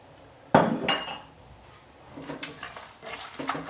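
A utensil works minced garlic into homemade sausage meat in a bowl, giving a few close, sharp clinks and knocks against the bowl amid soft, squelchy mixing.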